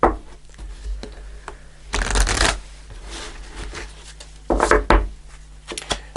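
Angel answer cards are shuffled by hand in short bursts of papery riffling and rubbing, with two louder flurries separated by quiet taps and slides.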